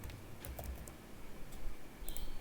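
Faint keystrokes on a computer keyboard while typing Java code, a few scattered clicks in small bursts over a quiet, hissy room background.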